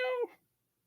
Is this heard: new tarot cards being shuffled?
no